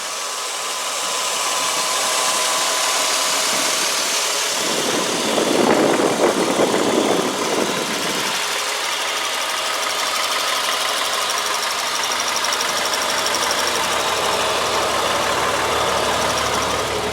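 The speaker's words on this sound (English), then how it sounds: "I'm just gonna be quiet and let you guys listen to the motor" A 2004 Honda Odyssey engine idling with the plastic cover on, a steady even hum running unbroken throughout, with a brief rougher rise in the middle before settling back to a smooth idle, no talking.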